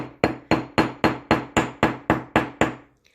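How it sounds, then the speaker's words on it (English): Nine sharp metallic taps from the ball end of a ball-peen hammer on a metal heart charm, in a steady rhythm, each ringing briefly before the next, close and fairly loud, with no talking. "take your hammer, the ball part of your hammer"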